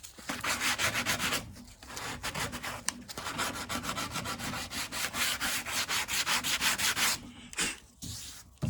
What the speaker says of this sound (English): Not a whole lot of sanding is needed because remember, we didn't fill it all the way up.